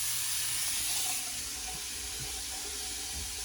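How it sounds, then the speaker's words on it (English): A dorm bathroom faucet runs into a sink, producing a steady, close hiss of flowing water that softens slightly partway through, with no voices. "when I turn on the faucet."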